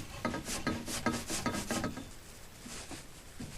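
Pipe cutter turned by hand around a pipe, a quiet repeated scraping, rasping rub in a steady rhythm of short strokes, close and faint with no talking.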